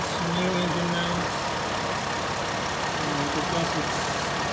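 A 2011 Ford Escape with over 184,000 miles idles steadily at close range, a continuous low engine drone with faint rattly vibration from worn engine mounts and no talking.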